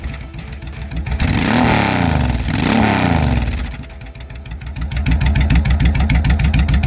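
A V-twin motorcycle engine idles after a carburetor adjustment, its loud, close, lumpy pulse rising in a couple of revs before settling back into an uneven throbbing idle, with no talking.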